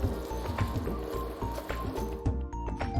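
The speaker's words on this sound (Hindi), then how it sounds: "अब गुड़ को भी इसमें अच्छे से मिक्स कर लेते हैं" Thick, wet squishing and stirring as grated jaggery is mixed into a millet dish, steady and close under a continuous low rumble, with soft scraping strokes throughout.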